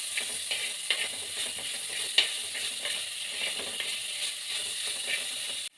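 Onions and tomato for a fish curry fry in a pan, a steady hiss of sizzling broken by irregular scraping clicks of stirring, close and moderately quiet, with no talk.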